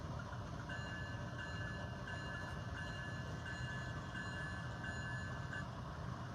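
A steady electronic bell tone from a Scale Trains DCC model GE C44-9W locomotive rings repeatedly over a constant low mechanical rumble, holding at an even pace for several seconds before stopping.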